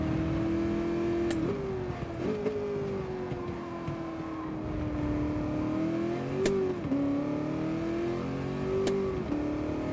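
Camaro race car engine in a racing video game, a steady loud drone with pitch rising and dipping through gear shifts and throttle changes, alone without talk.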